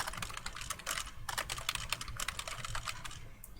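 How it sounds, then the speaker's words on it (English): Quick run of keystrokes on a computer keyboard, soft close-up clicks in an irregular burst with brief pauses, quiet and alone without any voices. "I pressed a key on my keyboard to move over"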